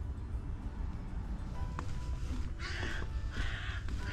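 A crow calls with a few harsh caws close by at a Tampa Bay fishing pier among mangroves, over steady wind and water noise in cool weather.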